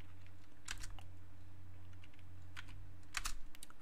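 Password keys being typed on a computer keyboard during a TrueOS (FreeBSD) install, two short bursts of quiet clicking over a steady low hum.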